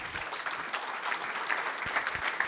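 Applause from a summit keynote audience, steady clapping with scattered sharper claps, moderately loud and continuous throughout.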